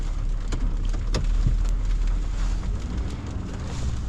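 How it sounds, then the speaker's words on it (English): Sleet and freezing rain during a Texas ice storm, a dense steady hiss of pellets with scattered sharper ticks and taps close by, continuous throughout with no voices. "It's starting to sleet pretty good. Sleet / freezing rain."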